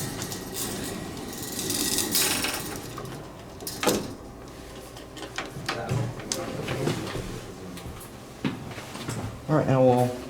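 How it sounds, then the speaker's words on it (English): A spring-loaded gate on a historic Warner traction elevator in the Biltmore Greensboro Hotel slides shut with metallic rattles and clacks, ending in a louder clattering close, while someone talks nearby. "we're gonna close the gate gently."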